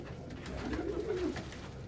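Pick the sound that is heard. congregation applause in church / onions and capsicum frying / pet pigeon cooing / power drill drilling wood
pet pigeon cooing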